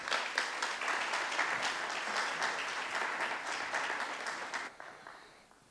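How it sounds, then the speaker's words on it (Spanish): Audience applause at a talk on traditional olive growing, a dense steady clapping from a crowd that holds for several seconds and then fades quickly near the end. "Profesor Garrido, un aplauso para él."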